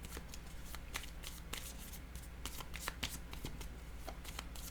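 Tarot cards shuffled and handled close up, a steady papery riffle with sharp flicks and taps as the cards are laid down. The sound is fairly quiet and there is no speech.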